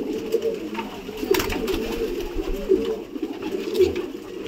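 Pigeons coo in low, throaty bursts close by, with soft rustling and scattered bird sounds in the background and no talk.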